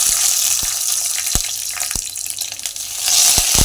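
Mustard seeds, cumin and red chilli sizzle in hot oil for a sambar tempering, a loud steady hiss punctuated by sharp, scattered pops of seeds.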